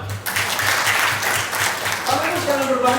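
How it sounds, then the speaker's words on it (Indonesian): Audience at a business seminar event in Makassar applauding, steady clapping throughout at moderate level with a voice speaking over it near the end. "Tepuk tangan dong."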